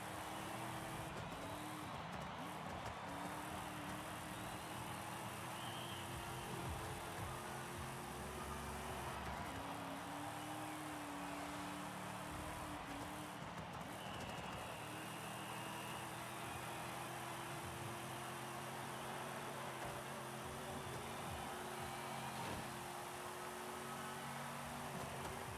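Vintage Ford NASCAR stock car engine in Forza Horizon 5, a steady mid-to-low engine drone that runs without a break at an even level, with faint pitch shifts as the car drives on.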